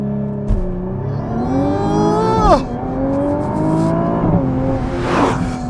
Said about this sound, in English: To this day, that is still the most shocking launch control of any car.